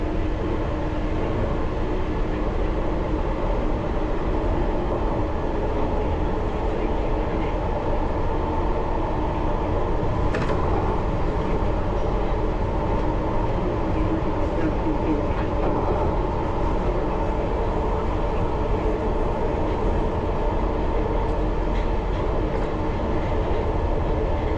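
A London Underground Piccadilly Line train runs into Bounds Green, heard from inside as a continuous loud rumble with rail clatter and a brief squeal partway through.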